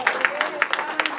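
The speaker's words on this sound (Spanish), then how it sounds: "Denle ese aplauso al Señor si quieren." Church congregation clapping at a Sunday service, a brief quick burst of hand claps at a fairly steady rhythm, some louder than others, with voices faintly mixed in.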